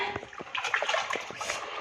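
Warm water splashes and sloshes as a dog is bathed in a cold season, with short irregular splatters close by and a voice speaking briefly over the wet bursts.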